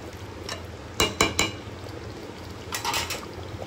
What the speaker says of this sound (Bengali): এবার নামানোর সময় এর মধ্যে আমি দিয়ে দিচ্ছি গরম মশলার গুঁড়ো, দিয়ে ভালোভাবে একটু নাড়িয়ে নিচ্ছি